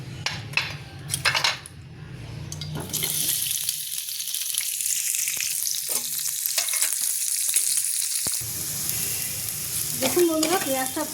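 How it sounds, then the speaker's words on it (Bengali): Onions frying in a little oil in a pan give a steady, close hiss and sizzle, with a few clinks of a utensil against cookware at the start. "এবার ওই প্যানেতেই অল্প করে তেল দিয়ে আমি পেঁয়াজটা ভেজে নেব।"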